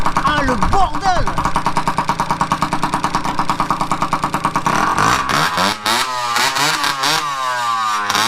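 Motorcycle engine fitted with a Giannelli exhaust, loud and close, idling in a rapid pulsing beat before revving up with rising and falling pitch sweeps near the end.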